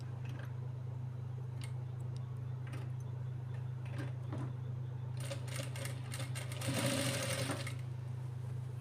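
A sewing machine stitches a lehenga blouse with a steady low motor hum, bursts of rapid needle clatter building near the end, close and quiet with no talk.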